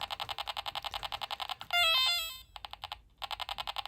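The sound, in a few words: Apple IIc video game sound after crash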